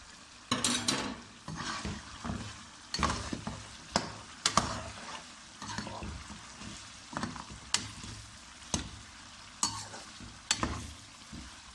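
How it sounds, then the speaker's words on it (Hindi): Meat fries in a pan with garam masala powder, ground cumin and red chillies, and a spoon scrapes through it in regular stirring strokes over a soft, steady sizzle; no voices. "हमने गोश्त को अच्छी तरह भून लिया।"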